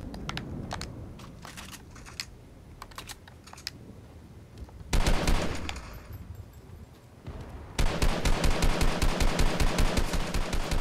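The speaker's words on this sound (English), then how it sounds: "someone has the drum gun" Rapid automatic fire from a drum gun in a solo battle-royale video game match, long rattling bursts that start and stop, the second burst louder and steadier, with no talking.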